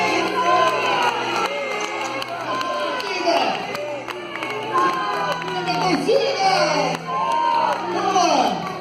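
An audience of children and adults at a live lecture event cheers and shouts continuously, loud and dense, with excited voices rising and falling throughout.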